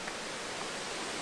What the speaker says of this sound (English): let's go get in that waterfall